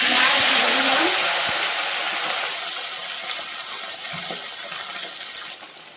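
Tap water runs over capsicum being washed in a kitchen: a loud, broad gush that slowly thins and quiets, then cuts off near the end, with no talk over it.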